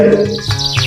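A short, close, loud bird chirp sound effect plays alone as a comic insert in a short comedy drama. It is a single bright tweet lasting under a second.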